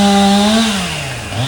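A chainsaw runs loud and close during cleanup after a destructive storm in Central Virginia, its engine whine holding steady and then dropping and rising again as it bogs into a cut.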